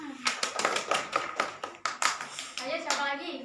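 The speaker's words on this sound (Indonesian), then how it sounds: "ya tepuk tangan" A group of pupils in a classroom claps hands together in quick, uneven rhythm for a few seconds, fairly close and lively, with faint children's voices mixed in.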